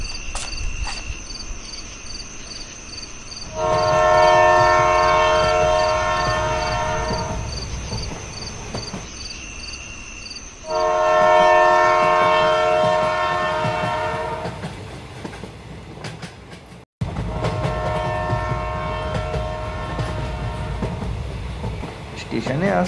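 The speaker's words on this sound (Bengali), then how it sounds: "স্টেশনে আসতেই ইতিমধ্যে একটা ট্রেন পেয়ে গেলাম।" A suburban train running at night on a line toward Sealdah, giving a steady loud rumble with long stretches of high ringing, squealing tones that swell and fade, briefly cut off near the end before the rolling noise resumes.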